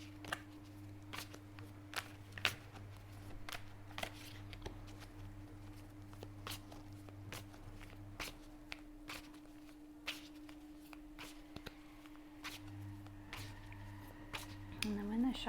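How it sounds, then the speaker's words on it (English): Tarot and oracle cards being shuffled by hand, a steady run of soft, quick riffling taps and slaps over a low constant hum, with some faint background voice. "I'm going to shuffle the cards"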